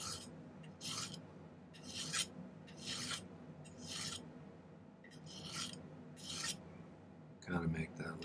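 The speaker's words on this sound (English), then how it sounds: "Just a little gentle filing, like to kind of merge those two nicely." Gentle filing smooths the joined ends of a silver wrap-around ring, heard as seven soft, evenly spaced rasping strokes close by, each lasting about half a second, quiet and without talk.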